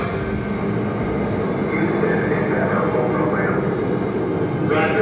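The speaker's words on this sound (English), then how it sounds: "Booster ignition and liftoff of Endeavour." The space shuttle Endeavour's boosters ignite and the shuttle lifts off, heard as a continuous, heavy, far-off roar that stays steady throughout the clip, with faint voices underneath.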